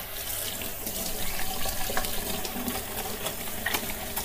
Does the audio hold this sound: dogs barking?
no